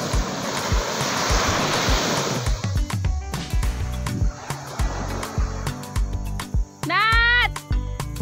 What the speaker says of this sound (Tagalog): Parang nagagalit yung alon guys, ang lalaki nila.